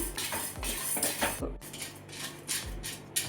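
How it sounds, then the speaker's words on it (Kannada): Chana dal dry-roasting in a pan over a medium flame gives a busy run of rattling, clinking scrapes in repeated bursts, close and fairly loud, with no one talking. "ಒಂದು ಪ್ಯಾನ್ ಇಟ್ಕೊಂಡು ಕಡಲೆಬೇಳೆನ ಡ್ರೈ ರೋಸ್ಟ್ ಮಾಡ್ಕೊಳ್ಳೋಣ. ಮೀಡಿಯಮ್ ಫ್ಲೇಮಲ್ಲಿ ಇಟ್ಕೊಂಡು ಫ್ರೈ ಮಾಡ್ಕೊಳ್ಳೋಣ."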